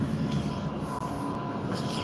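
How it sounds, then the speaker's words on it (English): Trams at the Lilyfield tram depot in Sydney, a steady rumbling rail noise with a low hum and faint squeals, continuous and moderately close, with no one talking. "So this is where all the trams are stored"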